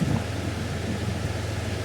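Rain in a video game falls as a soft, continuous hiss with a low rumbling undertone, faint and even across the short stretch.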